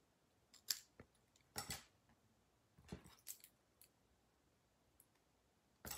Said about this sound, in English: now I'm going to cut that off because I forgot to fold it back on itself.